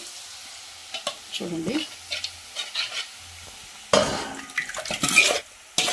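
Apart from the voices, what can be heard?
dal poured into a hot pan and stirred, sizzling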